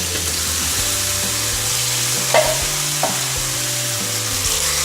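Beans warm and sizzle in a skillet as enchilada filling. The frying hiss is close and constant, with a low hum beneath it and a couple of brief scrapes near the middle.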